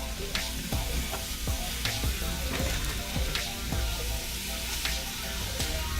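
Boneless beef ribs sizzling and spitting in a pressure cooker on sear mode, a steady loud frying hiss with scattered pops and crackles throughout.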